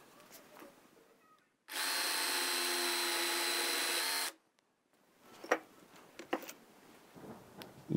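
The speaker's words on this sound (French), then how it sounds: "Ici, je vais utiliser une mèche de 2 mm 5 qui permettra de faire passer les clous dans les pinces à linge." A power drill fitted with a 2.5 mm bit bores into a wooden batten, running in one steady loud burst of about two and a half seconds, followed by quieter handling knocks and rubbing.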